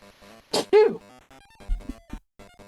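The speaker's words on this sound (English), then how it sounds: "Sometimes those sneezes just sneak up on you." A single loud sneeze bursts out between stretches of quiet talking, sharp and close, with a brief voiced tail.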